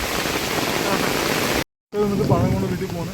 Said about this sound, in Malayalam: കണ്ടോ നല്ല മഴ